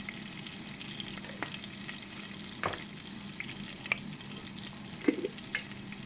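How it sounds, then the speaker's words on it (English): Spicy fish curry with cream cheese and fenugreek is stirred in a pan, a soft continuous simmering sizzle with a few light scrapes and clinks of the spoon, fairly faint and close, with no voices. "It has been stirred well to mix the flavor."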